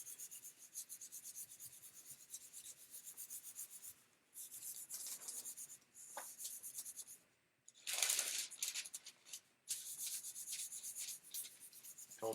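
Paper rubbed firmly over a Tyvek mask during burnishing, a dry rasping scrape in repeated bursts with brief pauses, close and fairly loud, with no talking.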